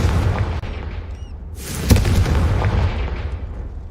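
A Confringo fire spell bursts in Hogwarts Legacy, a loud deep boom with a rushing blast partway through, trailing into a low rumbling fade.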